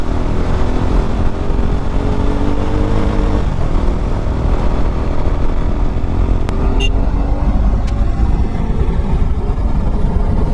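A KTM RC 390 BS6 motorcycle fitted with an Akrapovic exhaust roars steadily and loudly close by throughout, with engine pitch shifting as it rides, mixed with constant road and wind noise.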